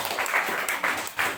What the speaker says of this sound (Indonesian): Tepuk tangan yang terbaik buat Tuhan Yesus.